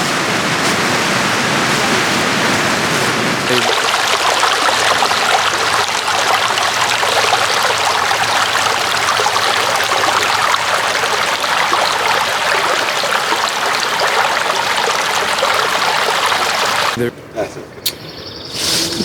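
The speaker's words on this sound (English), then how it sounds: "That's a natural spring, just bubbling up." Water from a natural spring bubbling up out of the ground at Morrow Mountain gurgles and rushes continuously nearby, a steady broadband wash, ending with a brief rustle.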